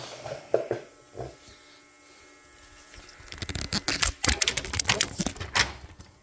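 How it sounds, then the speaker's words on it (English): Several sharp clattering knocks and scrapes close by, a burst of handling noise after a quieter stretch with faint thumps. "Sorry about that phone drop."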